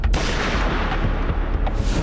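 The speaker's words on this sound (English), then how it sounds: "Minutes later, Tim heard a gunshot" A single gunshot, heard as a loud sustained boom with a dense rumbling tail that fills the whole moment, with no voices present.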